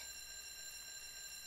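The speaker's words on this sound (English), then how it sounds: "I hate this alarm clock. Do you want me to turn it off?" An alarm clock rings in the video game Harvest Moon: Another Wonderful Life, a faint, steady electronic ringing tone that holds unbroken throughout.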